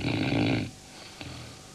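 A person snores once, a loud, rough, grunting breath that cuts off abruptly and leaves near silence with a faint click.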